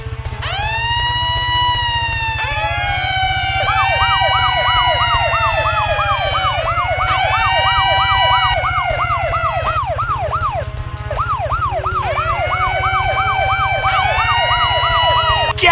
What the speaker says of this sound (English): Turn our sirens on and off.